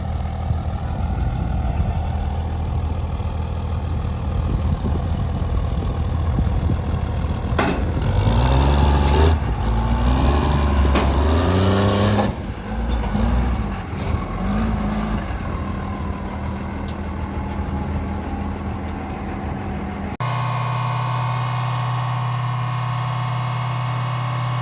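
Truck engine running on a freshly calibrated dyno at the Idaho Truck Invasion event, a built 1760 hp compounds diesel, steady droning then a surge of rising, revving tones midway before settling to a lower steady hum.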